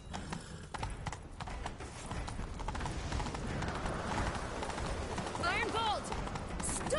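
Roach, Geralt's horse in The Witcher 3, gallops with a steady, fast clip-clop of hooves over a wash of game music and ambience, with a brief whinny-like sweep near the end.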